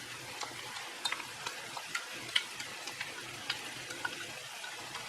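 Tomato sauce with cooked ground beef for Filipino-style spaghetti simmers softly while a spoon stirs it, giving a quiet, low bubbling sizzle punctuated by light, irregular taps and clicks against the pan.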